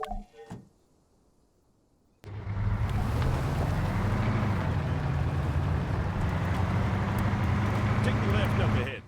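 A vehicle in Arma 3 starts up after a quiet moment, then its engine drones steadily and loudly with a low rumble and shifting pitch as it drives, alone without talk.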